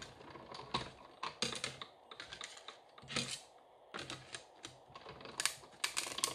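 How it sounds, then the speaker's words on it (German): A hand-cranked die-cutting machine pressing a paper card makes irregular bursts of dry clicking and ratcheting at close range, with short pauses between runs. "Und dann nehme ich meine Stanzmaschine."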